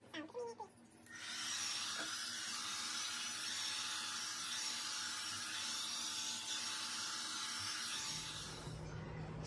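A hair dryer kicks on after a second and blows with a steady, loud whooshing hum that continues without a break, with a faint pitch change near the end.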